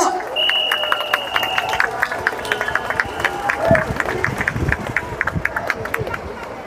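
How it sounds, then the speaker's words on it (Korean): Crowd clapping at an outdoor political campaign rally in front of a supermarket in Busan, a steady wash of applause and murmuring with a few shouts, fairly close and continuous throughout. "응원의 박수 부탁드리겠습니다."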